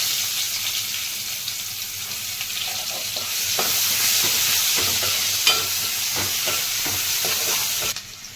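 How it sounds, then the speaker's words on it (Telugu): Onion pieces hit hot oil with mustard seeds, cumin and dried chillies for a gongura egg curry, and the sizzle swells louder partway through, with scattered crackles and pops close by and no talk. "ఇప్పుడు ఉల్లిపాయ ముక్కలు వేసుకుందాం"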